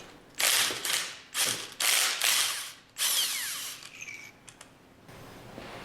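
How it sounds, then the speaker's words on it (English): Power tool bursts as the remaining retaining bolts come off a manifold during a piston guide oil seal service: several short whirring runs with ratchety clicks, close and fairly loud, separated by brief pauses, then quieter handling noises. "remove the remaining retaining bolts"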